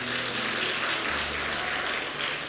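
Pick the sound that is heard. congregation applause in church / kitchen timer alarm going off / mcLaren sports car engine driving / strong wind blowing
congregation applause in church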